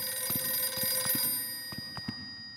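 A telephone rings in the video game The Classrooms, a repeated electronic ringing pulsing in short bursts over a steady high whine, fairly close and with no voices.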